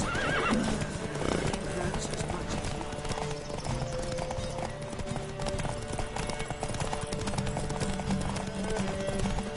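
Horse hooves clip-clop at a gallop with repeated neighs and whinnies while riding in The Witcher 3, steady and fairly loud over game music and ambience.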